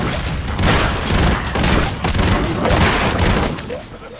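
Gunfire and explosions rattle through a chaotic firefight in the side-scrolling action game Broforce, dense bursts of shots and booms layered nonstop, loud and close, with a voice speaking over the clamor.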